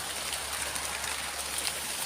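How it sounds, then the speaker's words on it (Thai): Rain falls over a sugarcane field at night, a steady, even hiss of drops pattering on leaves, close and continuous with no break. "รีบครับฝนก็ตก"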